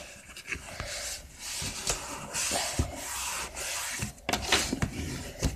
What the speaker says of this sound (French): On replie toujours les bords là pour après que quand on plie ça fasse un joli col.